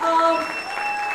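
Applause at a makeup product range launch event, brief crowd clapping with tonal music or feedback lines ringing through it.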